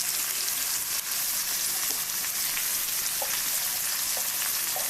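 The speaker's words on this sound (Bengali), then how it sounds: "আলুটা খুব সুন্দর করে ভেজে নেব" Potatoes fry with turmeric and salt in hot oil, a dense, steady close sizzle with a few faint utensil taps and no speech.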